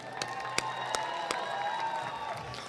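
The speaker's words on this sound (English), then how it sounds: "Give everyone a round of applause for being here this morning." A morning crowd at a Martin Luther King Jr. Day celebration and service applauds, with a sustained clatter of clapping mixed with a few cheers and whoops, a handful of sharper claps standing out.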